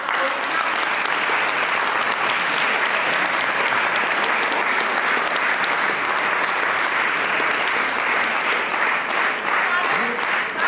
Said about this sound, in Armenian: ուզում եմ, որ ծափահարենք Հարությունյանների գերդաստանին